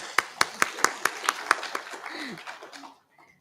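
A short round of hand clapping from an audience at an Indian Chamber of Commerce event, starting with sharp separate claps that blur into a brief ripple and fade out within a few seconds. A faint voice is heard under it.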